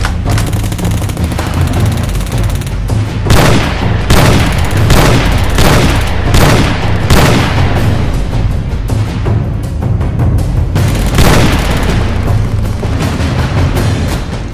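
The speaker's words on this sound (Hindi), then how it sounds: "सिंगल में एक एक गोलियां फायर करते रहो" Gunfire in a battlefield scene, loud and continuous, with repeated booming shots and blasts packed closely together throughout, some bursts overlapping into rapid volleys rather than clearly separate single shots.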